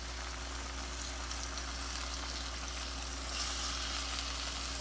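Corned beef broth poured over cabbage cooking in a pan, producing a continuous hiss of sizzling that swells slightly toward the end, heard over a low steady hum.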